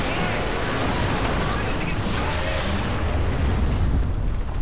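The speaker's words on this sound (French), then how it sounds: "Oh, ça fait boum le mur." A wall exploding in the Saints Row 3 video game, a dense, continuous roar of blast and crumbling debris lasting several seconds at a steady loud level.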